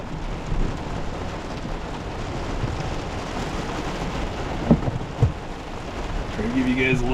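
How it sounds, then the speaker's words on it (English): Heavy rain pounding steadily on a truck during a severe thunderstorm, a dense close hiss with a couple of brief thumps and a faint voice near the end. "Yeah, storming pretty good."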